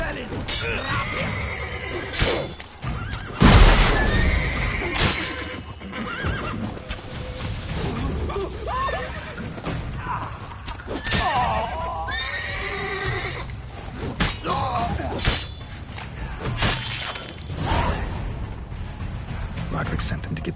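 Horses neigh and whinny with clip-clopping hooves in a video game battle scene, loud whinnies standing out over intermittent game dialogue, clashes and background effects.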